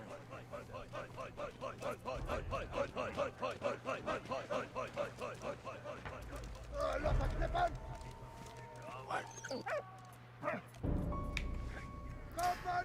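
A dog in the World War I video game Valiant Hearts: The Great War yips and barks amid rhythmic running steps and game effects, with a player talking over the action.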